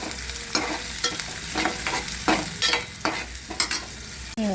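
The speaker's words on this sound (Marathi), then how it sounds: "कांदा टाकलेला आहे कांदा भाजून घेऊया" Onion frying in a pan for a fenugreek vegetable dish: a spatula clatters and scrapes in repeated strokes over a low, steady sizzle, close up, with no talking.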